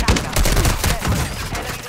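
Rapid gunfire bursts from a water-side firefight in an online shooter game, dense overlapping shots crackling close and loud for the whole stretch with chatter mixed underneath.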